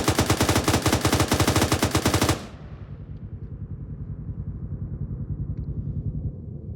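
Machine gun firing at its cyclic rate in one continuous burst, loud rapid uniform shots for about two seconds, then abruptly stopping and leaving a lingering rumbling echo.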